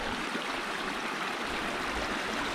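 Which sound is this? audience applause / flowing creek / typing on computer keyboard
flowing creek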